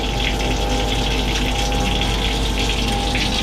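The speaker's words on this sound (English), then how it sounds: "we've got water running now" Water runs steadily from a boat's subfloor fresh-water tank, flushing out old stale water, with a continuous gushing, pump-driven hiss close by, unbroken for the whole stretch.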